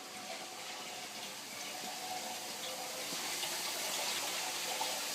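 Pump moving water through a filter and hoses during a water change on a 150-gallon cichlid aquarium, a steady rushing, gushing flow of moderate level that swells slightly toward the end.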